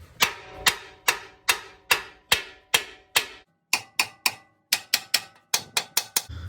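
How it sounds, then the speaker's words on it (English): A hammer strikes a tie rod on a 2014 Ford F-150 repeatedly in sharp, ringing metal blows, a steady series of about twenty hits with a short pause midway. "Get it down here and then smack it with a hammer a couple times."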